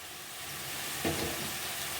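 Spices fry gently in a pan with a soft, steady sizzle and hiss, quiet overall, with one brief stirring scrape near the middle.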